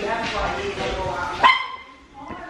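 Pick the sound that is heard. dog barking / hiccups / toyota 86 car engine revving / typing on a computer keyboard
dog barking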